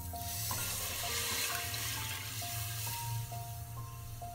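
Water poured into a cooking pot for dried plum sauce, a steady splashing pour at moderate distance, with faint clinking tones over it and no talk.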